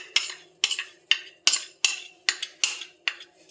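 Custard powder being stirred into cold milk, a spoon striking the side of a bowl in eight sharp, evenly spaced clinks, each followed by a short scraping swirl, close and clear with no talking.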